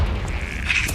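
A Confringo fire spell bursts in Hogwarts Legacy on PS5, a steady rumbling boom with a low roar that holds for about a second, moderately loud with no talk over it.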